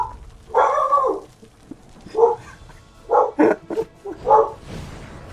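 A dog barks repeatedly indoors, five loud close barks in uneven bursts with short gaps, some doubled, alone without talk.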